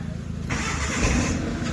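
A Mitsubishi Lancer engine cold-starts after an ECU fix: a cranking burst catches into a steady, loud idle that holds on without letting up.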